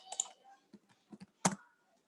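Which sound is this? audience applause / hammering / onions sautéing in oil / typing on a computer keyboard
typing on a computer keyboard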